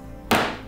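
A gavel knocks once on a desk with a single sharp, close wooden thunk that rings briefly and fades.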